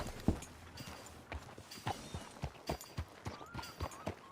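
Horse hooves walking in Red Dead Redemption 2, a steady, fairly even clip-clop of hoofbeats, close and moderately quiet, with faint ambient background and no talk.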